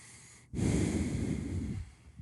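A single long, heavy breath, loud and close to the microphone, rasping for over a second before trailing off.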